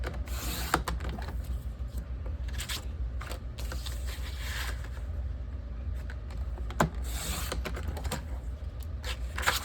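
Beige cardstock sliced on a paper trimmer for a mountain-themed scrapbook border, a steady scraping, creaking blade run with a few sharper clicks over a quiet room.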